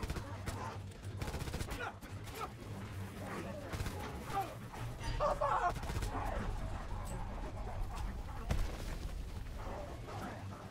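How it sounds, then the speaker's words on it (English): Rapid gunfire from shooting zombies in Call of Duty WWII Nazi Zombies, the Final Reich map, repeated bursts running continuously under game noise and speech. "I killed zombies by shooting them 9 times in the legs"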